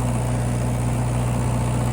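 A tractor engine idles near the back of a riverside temple, a steady, loud, low throbbing rumble with an even pulse and no voices.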